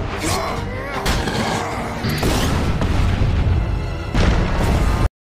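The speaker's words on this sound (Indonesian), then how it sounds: "Tiba-tiba bom meledak di kastil" A bomb going off at a castle in an animated fantasy story: a loud, dense rumbling blast with debris-like crackle filling the whole stretch, a fresh heavy boom near the end, then a sudden cutoff.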